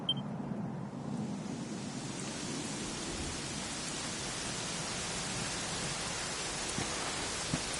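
Steady rain falls in a continuous, even hiss of drops, moderately loud and unbroken throughout, with no voices.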